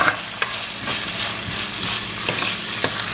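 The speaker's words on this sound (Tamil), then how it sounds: "இதை மிக்ஸ் பண்ணி போட்டு ஒரு 3 நிமிஷம் வதங்க விடுவோம்" Green chillies, curry leaves and garlic sautéing in a pan for drumstick shrimp kulambu, a loud continuous sizzle with a few soft stirring scrapes, close and without voices.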